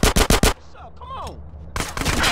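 Gunfire in GTA San Andreas, a rapid string of four loud close shots, a short quieter pause with game voices, then another burst of shooting at the end.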